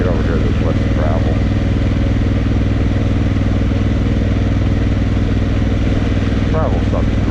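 An adventure motorcycle ridden over loose gravel on hard pack, a steady loud engine drone with rattling chatter throughout, close to the rider, with a voice speaking briefly over it.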